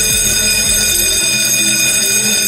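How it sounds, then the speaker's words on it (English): A loud, steady alarm bell rings continuously, its bright metallic tone filling the whole stretch with no pause and no voices. "In case of emergency, the fire alarm bell will be ringing."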